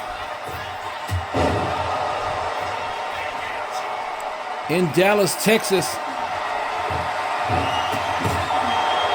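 A capacity crowd in an arena in Dallas, Texas roars and cheers steadily, with a loud burst of whooping midway, under a commentator's voice.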